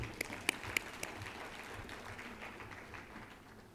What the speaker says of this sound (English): So I want to give them another round of applause.